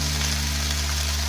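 Spices fry in oil in a pan for Bengali-style prawn malaikari. A brief, even, constant sizzle sits over a low steady hum, close and loud, with no speech.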